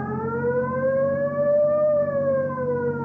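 A police car siren wails loudly and continuously, its pitch sweeping slowly up and back down in one long tone, in an old-time radio drama.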